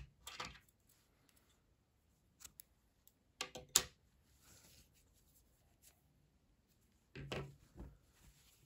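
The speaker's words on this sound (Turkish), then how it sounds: "İpliği kesiyorum." Scissors snipping crochet yarn after finishing a skirt edge, a few short quiet cuts and handling clicks scattered through near-silence, close up.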